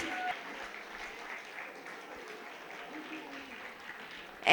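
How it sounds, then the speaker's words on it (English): An audience at a school gathering applauds for a child named Adyant, a soft, steady wash of clapping that stays fairly distant and even for several seconds, with a louder burst right at the end. "I want all of you to clap for Adyant."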